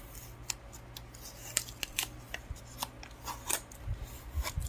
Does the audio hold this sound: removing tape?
yes